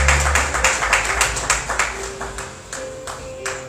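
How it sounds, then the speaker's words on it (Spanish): Church congregation clapping for the Lord after a sermon, loose rhythmic claps at a fairly quick pace that gradually fade, with a faint sustained tone in the background. "Démosle un aplauso al Señor"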